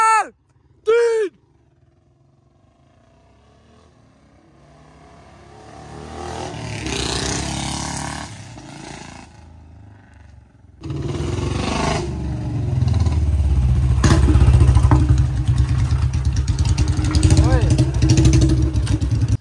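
Two Royal Enfield Bullet motorcycles, a BS6 model and a 1985 model, roar off in a drag race after a couple of sharp bangs, their engines swelling from a distant drone to a loud, sustained close rumble.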